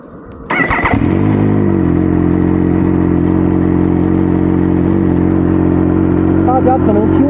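A Benelli TNT899 three-cylinder motorcycle engine starts with a sharp burst and then settles into a loud, steady, close idle with a deep throbbing hum that lasts to the end.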